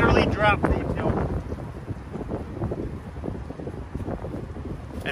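Strong wind of about 25 mph on a disc golf course buffets the microphone in a steady, rumbling roar, with someone talking over it.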